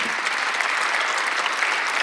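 A church congregation claps steadily through a Sunday worship service, forming a dense, even wash of applause with no pauses.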